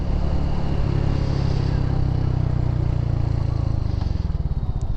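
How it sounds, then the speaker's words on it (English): A small motorcycle with a stock exhaust idles close by with a steady low exhaust rumble and a faint rhythmic putter throughout, with no revving. "even though it's a small bike with a stock exhaust, but that stock exhaust sounds good"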